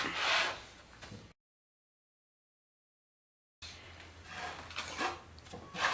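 Saw cutting out a wood piece for a honeybee swarm trap, producing close rasping strokes that stop for a couple of seconds and then resume, no talking.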